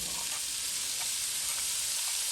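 Freshly chopped green seasoning fries in hot oil for Guyanese-style fried bora and shrimp, giving a dense, even hiss of sizzling with a few faint pops and no speech.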